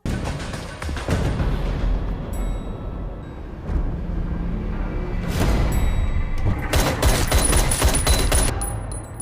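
Loud bursts of rapid gunfire and heavy thuds from a Daredevil TV episode fill the scene, with dense volleys of shots and metallic clatter ringing out near the end.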